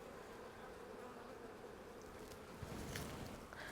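Honey bees buzz steadily around an open hive during a spring inspection of brood frames, a continuous close insect drone with faint handling rustles and a brief bump near the end.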